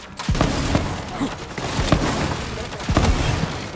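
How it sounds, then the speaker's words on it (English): Shotgun blasts in Infinite SNTNL ring out at irregular intervals as several heavy booming shots, over a constant busy bed of game noise and effects. "Let's also try the shotgun."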